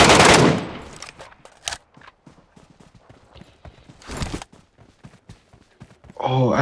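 Gunfire in the video game Metro: scattered sharp shots and quick bursts, with louder blasts near the start and around the middle, set among players' voices.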